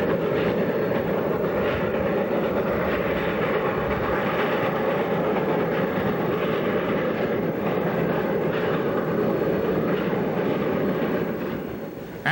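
Cumbres & Toltec rotary snow plow train plowing into the mountains past Los Pinos, a steady loud rumbling roar of engine and rail noise that holds constant throughout, with no talk.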